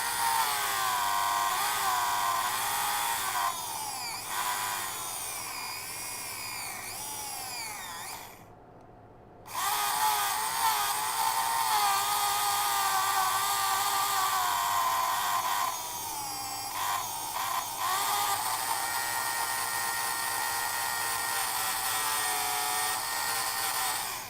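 A small Tamiya hobby router and drill whine steadily at high pitch, a continuous motor buzz that briefly cuts out around the middle and then resumes, running alone without voices.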